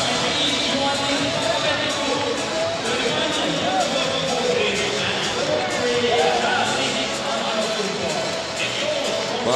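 A packed basketball arena before a Greece v Finland EuroBasket 2017 game, the crowd roaring steadily and loudly throughout, dense babble and cheering with no single voice standing out.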